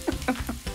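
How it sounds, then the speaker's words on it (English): Piri piri chicken pieces sear skin side down in a hot frying pan, giving a close crackling sizzle with several quick pops and spits in under a second, with no voices. "if you don't hear the most beautiful sound in the world, which of course is the sizzle sound, then you are doing something absolutely wrong"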